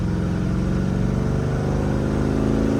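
A Dodge Dart with a V8 and four-speed manual pulls on nitrous in second gear, giving a steady, loud engine drone with heavy rumble and no voices.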